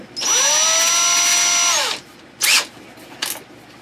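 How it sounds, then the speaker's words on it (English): A power drill fitted with a 1/16 inch cobalt bit whines steadily for about two seconds while boring through a metal-cored handle, then winds down. Two short bursts of the drill follow. All of it is loud and close. "So I'm gonna use my drill."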